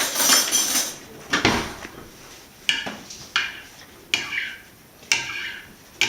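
Pizza sauce ingredients mixed in a bowl with a utensil, giving a series of sharp clinks and scrapes at roughly one-second intervals, close and fairly loud with quiet gaps.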